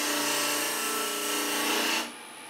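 A Sorby fingernail-profile gouge cuts milk pear wood spinning on a lathe for a candlestick, producing a continuous loud rasping hiss that cuts off sharply, leaving a fainter steady hum.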